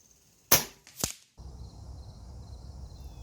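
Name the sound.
25 Avenger air rifle shot at target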